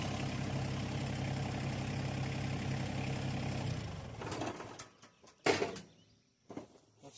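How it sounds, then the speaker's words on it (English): A tractor engine idles with a steady low rumble for about four seconds near an Ibex TX31 net wrap baler, then shuts off, leaving scattered clunks and quiet. "Let's turn the"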